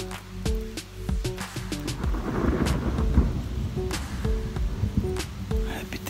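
Rolling thunder rumbles low and loud through steady rain, with sharp crackling bursts scattered across the storm, heard on a mountain trail in Corsica between Incudine and Bavella.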